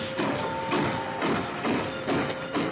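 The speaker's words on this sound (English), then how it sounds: "This is the train that carries my visitors around the village" A small train carrying visitors around a village chugs along in rhythmic puffs, about five evenly spaced hissing pulses with a faint steady whistle-like tone underneath, close and without talk.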